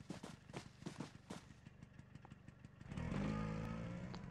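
A motorcycle engine in the video game PUBG Mobile putters in a rapid, uneven rhythm, then revs up into a louder, steadier drone with a clear rising tone, with no talk.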